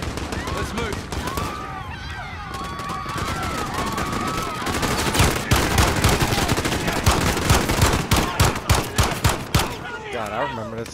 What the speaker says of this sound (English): That's the essential firefight.